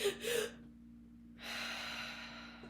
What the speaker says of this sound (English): do 2 quick inhales and a long exhale